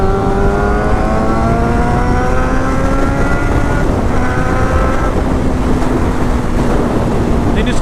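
A 1999 Honda CBR 600 F4 sport motorcycle accelerates, its loud exhaust note climbing in pitch through rising sweeps over a continuous roar, close by and steady throughout.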